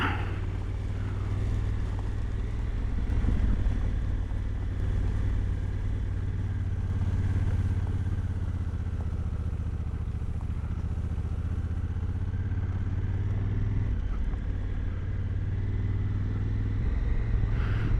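A motorcycle rides through a field, its engine a steady, loud drone with a low rumble that holds the whole time and a brief dip in pitch near the end, with wind and clatter mixed in.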